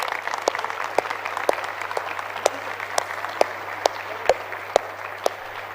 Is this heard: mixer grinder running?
no